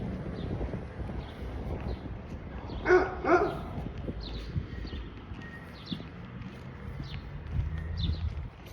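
Dogs outdoors on a walk, with a couple of barks at mid-distance over steady wind and rumbling outdoor background noise.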